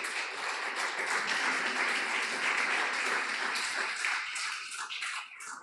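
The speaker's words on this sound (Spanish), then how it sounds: "Denle un aplauso al Señor, aleluya." Congregation at a church service clapping together in a sustained, even burst of applause that thins out and fades near the end.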